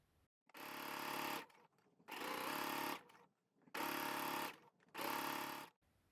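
A sewing machine runs in four bursts of fast, steady straight stitching through gabardine, each about a second long, separated by brief pauses; close and clear.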